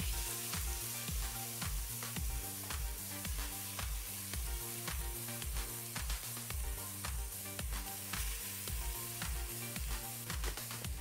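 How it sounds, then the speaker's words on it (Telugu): Vegetable kheema gravy sizzles in a hot pan with a continuous frying hiss, heard over a steady, rhythmic musical beat, with no talking. "ఇదిగోండి గ్రేవీ వేసేసుకుందాం."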